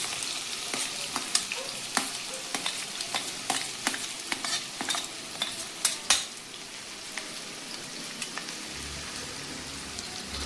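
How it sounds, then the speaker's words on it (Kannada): Onions shallow-fry in hot oil for paneer vegetable fried rice, a steady close sizzle broken by scattered crackles and spatters, with occasional stirring scrapes and no talking. "ಈರುಳ್ಳಿ ಸ್ವಲ್ಪ ಶಾಲೋ ಫ್ರೈ ಮಾಡಬೇಕು, ಅಷ್ಟು ಬ್ರೌನಿಷ್ ಫ್ರೈ ಬೇಡ"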